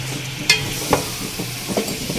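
Radish is stirred into fried masala in a pan: a low sizzle under a few scraping, clattering strokes of a spoon, close and moderately loud.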